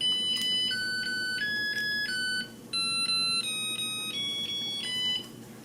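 A rice cooker plays a melodic beeping tune, a string of clear tones stepping up and down over a low steady hum.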